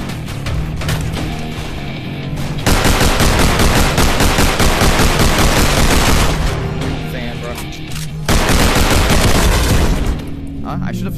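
Gunfire in a VR shooter video game: long, loud bursts of rapid automatic fire with short breaks between them, with voices talking over the shooting.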